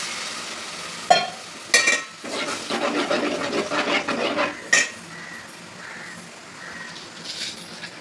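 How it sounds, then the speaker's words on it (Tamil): Garlic, cumin and pepper dropped into hot oil for crab rasam, with sharp clinks of a utensil against the pan, a burst of crackling sizzle, then quieter spluttering close by. "இப்போ நம்ம எடுத்து வச்ச பூண்டு, சீரகம், மிளகு போட்டுக்கிறோம்."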